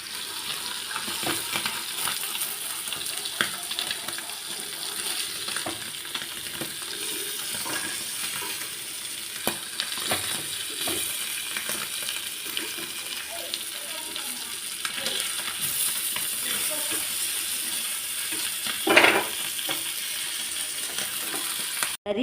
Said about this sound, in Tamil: இந்த கடாயை விட தோசை கல்லில் வறுக்க தான் ஈஸியாக இருக்குதுங்க